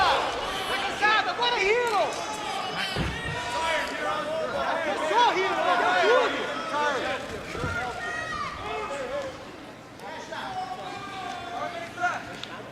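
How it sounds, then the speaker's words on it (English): Spectators at a professional jiu-jitsu grappling match fill the hall with overlapping shouts and cheering voices that swell and dip, rising to a peak midway with a few sharp thuds, then quieting before picking up again. "You know, you hear the crowd, both for Hidon and Andre."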